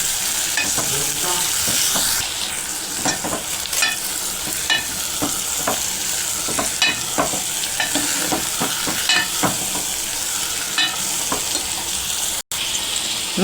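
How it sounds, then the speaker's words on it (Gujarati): Green cowpeas are stirred into a hot tempering in a pan: a steady close sizzle with frequent scraping and clinking spoon strokes, continuing almost without pause and briefly cutting out near the end. "આપણે સોળી નાખીને તેને હલાવીને મિક્સ કરી લેવાનું છે।"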